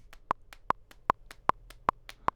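Hand claps falling off the beat beside a steady metronome click, one sharp bright clap roughly every 0.4 seconds, clean and close in an otherwise quiet room.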